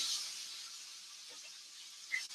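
A steady, soft hiss of food sizzling in a pan continues throughout, with a faint click near the end.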